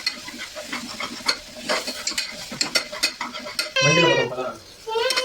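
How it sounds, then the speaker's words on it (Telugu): Chicken masala is stirred and fried in a pan, with a spoon scraping and clinking in irregular strokes over a close, loud sizzle that swells near the end. "మంచిగా అయితే కలిపేసుకోవాలి."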